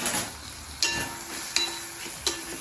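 A little ginger sautéing in hot oil in a pan, a continuous gentle sizzle with three evenly spaced clinks of a stirring spoon against the pan.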